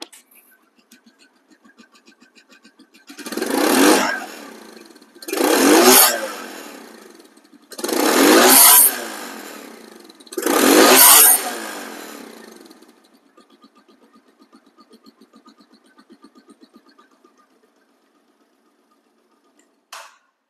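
A secondhand Yamaha FZ motorcycle engine idles with a low, steady putter and is revved four times in a row. Each rev is a loud, close rise and fall lasting about two seconds, and the engine then settles and stops.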